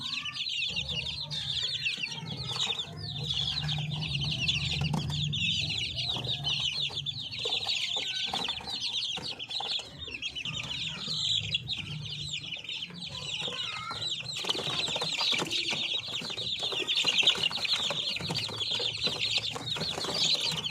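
Chickens on a breeder farm, many birds clucking and peeping continuously at moderate distance, a busy overlapping chorus with a low background hum.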